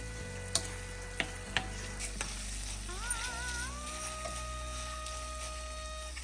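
Gongura paste frying in oil in a pan for pulihora gives a soft, steady sizzle, broken by a few utensil clicks and stirring noises, close by and with no voices.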